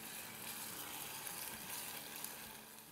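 Chopped onions for egg bhurji frying in a pan, a steady close sizzle with fine crackle and spatter throughout, heard alone.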